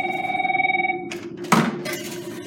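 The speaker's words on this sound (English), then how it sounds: "Let's see who is on the phone for us." A telephone rings with a rapid warbling electronic trill, then cuts off into handling noise: a thunk, a brief rustle and fainter clatter, all close and fairly loud.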